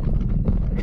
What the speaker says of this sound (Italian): L'asino.